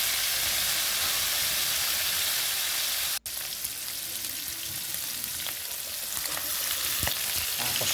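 Fish frying alongside radish sautéing in a pan, a loud continuous sizzle and hiss with a brief dropout, then scattered crackles and pops, with no voices.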